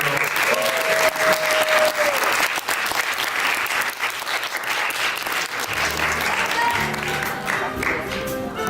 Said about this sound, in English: Can you give a big round of applause for that?